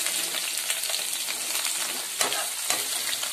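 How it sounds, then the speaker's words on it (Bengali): Onions sizzle in hot oil with cardamom, cinnamon and cloves, a steady close frying hiss broken by a couple of sharper scrapes as the pan is stirred. "নেড়ে নেওয়ার পরে এটা আমি দিয়ে দিচ্ছি পেঁয়াজ।"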